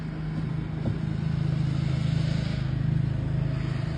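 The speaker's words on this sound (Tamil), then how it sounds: "அதோட வாகனங்களோட சத்தம்" Steady low motor rumble of passing street traffic on Djerba island in the morning, moderately distant, with a faint swell of engine noise and no voices.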